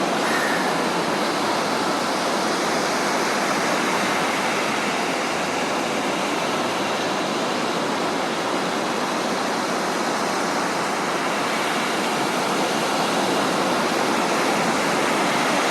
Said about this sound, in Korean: 동해 쪽에 파도는 확실히 느낌 다르네요